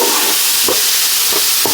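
Mixed veggies and burger mix fry in a hot pan, a steady sizzle with three or four soft scraping stir strokes at irregular intervals, close and loud.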